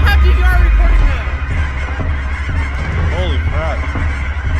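Big birds honk loudly and repeatedly close to a hovering $15,000 drone, their rising-and-falling calls standing out over the machine's steady, heavy whir.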